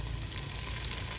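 Tomatoes and green chillies frying in a pan give a dense, even sizzle that stays steady and close for a brief moment, with no voices.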